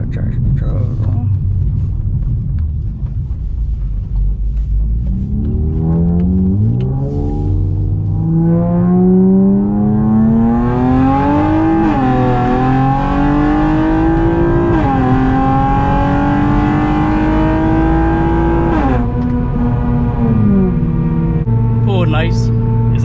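A nearly 400hp CT2 race car accelerates hard from inside the cabin, its loud engine note climbing through several rising gear pulls with brief drops at the shifts, steady and close throughout.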